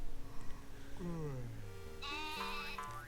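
A sheep bleating in a dream sequence in the video game The Talos Principle, a few drawn-out wavering bleats close and clear over a soft steady background hum.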